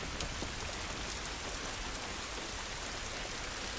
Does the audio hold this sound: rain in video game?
yes